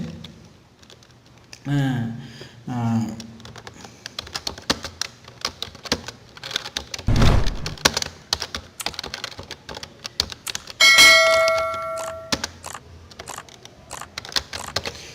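Someone types a note on a computer keyboard in MS Word, with scattered close key clicks and taps across the stretch while a voice talks over parts of it.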